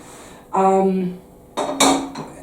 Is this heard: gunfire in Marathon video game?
no